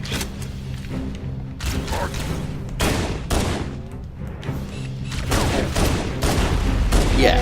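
Gunfire in the video game Halo Combat Evolved Anniversary comes as repeated loud bursts and thumping shots over a steady game soundscape, rising toward the end.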